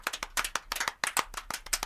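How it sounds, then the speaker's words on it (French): Several sharp, distinct hand claps ring out in an uneven rhythm, close and fairly loud, with no talk over them. "Applaudissez pour elle."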